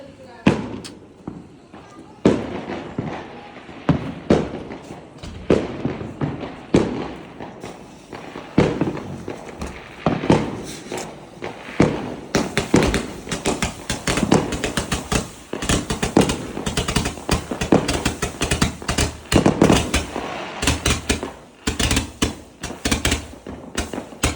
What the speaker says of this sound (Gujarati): બહુ બધા ફટાકડા ફૂટે છે બધી બાજુ.